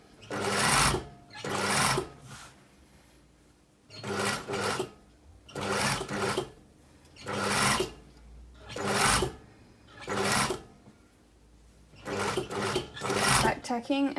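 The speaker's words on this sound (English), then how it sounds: "Back tacking and then just sewing over a little bit because I've got that extra bit of fabric, like so." A sewing machine back tacks and stitches bias binding onto slippery blouse fabric, running in about seven short, even bursts with brief pauses between them, close and moderately loud.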